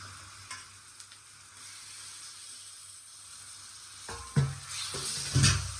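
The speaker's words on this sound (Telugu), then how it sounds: "ఈ మసాలా అంతా కూడా ఈ ముక్కలకు బాగా పట్టించుకోవచ్చు గరిటతో కలుపుకోవచ్చండి" Fish pieces (mitta gudisalu) being stirred into masala with a ladle in a pan, a low steady sizzle with a few louder scraping clanks near the end, no talking.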